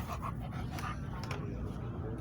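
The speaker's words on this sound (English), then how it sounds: "Watch that dog." A dog at an outdoor festival pants rapidly and steadily, fairly close, with crowd noise and voices around it.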